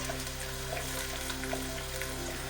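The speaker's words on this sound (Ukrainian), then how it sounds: "Наша цибулька вже підтушується, стає прозорою" Onion fries in rendered pork lard with a steady, close sizzle and soft crackle, continuous throughout with no talk.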